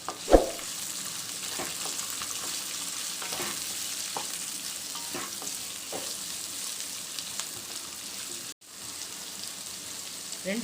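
Two large onions, green chillies and curry leaves sauté in a pan with a continuous crackling sizzle, scattered spatula taps and scrapes, and a brief dropout near the end.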